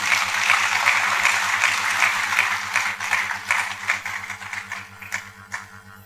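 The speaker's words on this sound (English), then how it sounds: "Please a round of applause for him." Steady applause from a conference audience welcoming a panelist at a youth and gender equality panel, dense clapping filling the room for about six seconds and thinning toward the end.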